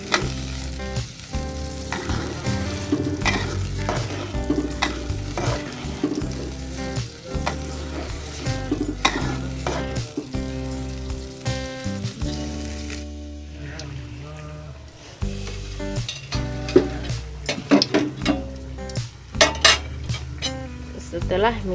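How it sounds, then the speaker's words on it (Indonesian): Chili sambal sizzles and fries in a pan, with metal utensils stirring and clinking against it steadily throughout, under background music. "Masak sambalnya sampai masak ya, sampai cabenya hilang bau cabenya"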